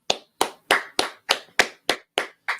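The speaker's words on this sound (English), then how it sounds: "let's clap it up" Clapping at a religious teaching gathering: nine sharp, evenly spaced claps in a steady rhythm, loud and close, with silence between each.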